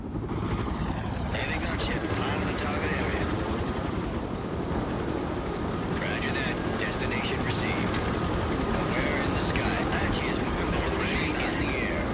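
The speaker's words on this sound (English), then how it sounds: "Chopper awaiting orders." A military helicopter in World in Conflict whirs as a steady, loud rotor drone throughout, with radio-style voices talking over it and faint distant combat noise underneath.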